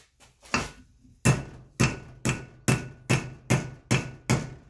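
A hammer strikes a drift to press a part into a hole held in a vise while building a steady rest for a metal lathe: a few light taps, then about eight sharp, evenly spaced metallic blows, close and loud.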